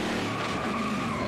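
A race car in NASCAR Heat 5 skids through a spin-out, giving a loud continuous tire squeal over engine roar for a little over a second.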